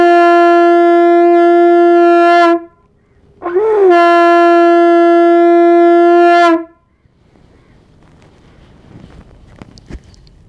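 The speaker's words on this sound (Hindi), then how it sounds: "और 3 बार आपको शंख बजाना है।" A conch shell blown during Hindu worship gives two long, loud, steady horn-like blasts with rich harmonics, each bending slightly at onset, followed by quiet room noise; only two of the three blows are heard clearly.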